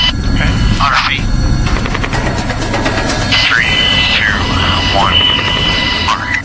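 Loud, steady rotor and engine roar of a helicopter in flight during a night rescue mission amid gunfire, running continuously beneath radio chatter and spoken voices.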